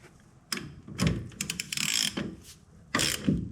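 A nut on race car wheel bearings is tightened with a ratchet, giving several bursts of quick, close metallic clicks separated by short pauses.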